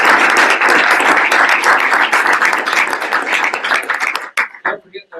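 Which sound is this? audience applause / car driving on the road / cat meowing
audience applause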